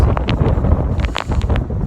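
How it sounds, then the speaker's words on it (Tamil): Wind rushes against the microphone during a rainy ride, a rough, buffeting roar with gusty bursts that stays loud throughout and has no talking over it. "காற்று அப்படியே அந்த பனி அப்படியே கொண்டு வந்து அடிக்குது மூஞ்சிக்கு"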